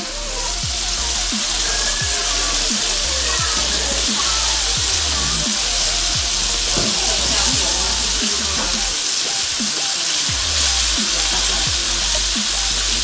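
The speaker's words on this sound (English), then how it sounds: "We're gonna let it fry pretty hard." Chicken strips fry hard in a pan with a loud, dense crackling sizzle, close and continuous, with scattered pops and spits throughout.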